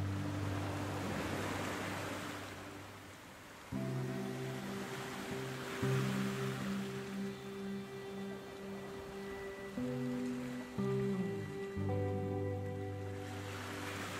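Water pours over a small village dam at Chinchani, making a continuous broad rushing wash with a steady droning tone layered on top.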